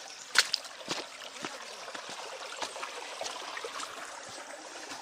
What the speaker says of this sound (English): You can probably hear the running water.